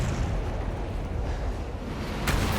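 A video-game explosion in Resident Evil 2 Remake rolls out as a loud, dense rumbling roar that fills the whole stretch, with a sharper burst flaring near the end.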